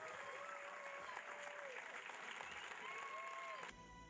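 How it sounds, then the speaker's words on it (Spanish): Faint, distant applause from a crowd at the inauguration of a heated swimming pool, a soft continuous patter with thin tonal sounds drifting above it until it cuts off near the end. "Fuerte el aplauso"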